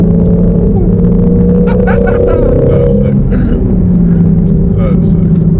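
Shelby GT350 Mustang engine rumbling steadily while driving, a loud continuous low drone with slight rises in revs, with people talking over it throughout.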